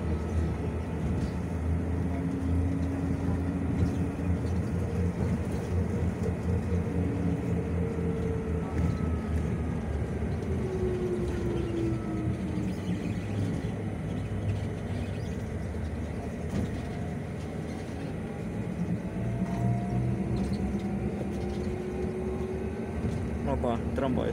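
Interior ride aboard a Bogdan T901.17 trolleybus on route 37 in Kyiv, with a steady low motor hum, rising and falling electric traction whines and continuous rolling rumble throughout, with occasional voices in the cabin.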